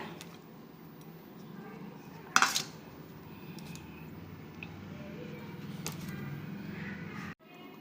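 A spoon mixes a batter of ground prawn heads, chopped onion, green chilli and gram flour in a bowl, giving soft steady scraping with one sharp metallic clink.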